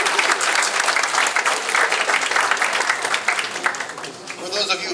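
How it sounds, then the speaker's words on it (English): Sustained, dense applause from a crowd at a New Year business gathering, loud and steady throughout with some voices mixed in, tapering slightly near the end. "A big round of applause for a new opportunity in a new year."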